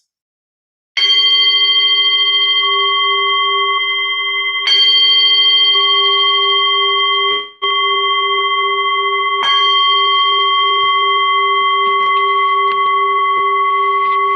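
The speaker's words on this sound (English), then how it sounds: "So now I'll just ring the bell" A meditation bell is struck three times, each bright strike blooming into a long, clear, humming ring that sustains and overlaps the next, alone in a quiet room.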